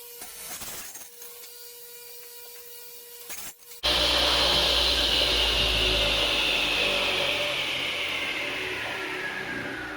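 A power saw, likely a table saw, rips along a wooden table leg to cut a taper for a farmhouse end table, starting loud at once after quieter shop noise and holding a steady, close, slowly easing whine to the end.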